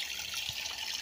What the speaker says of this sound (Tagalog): Dire-diretso ang agos ng tubig.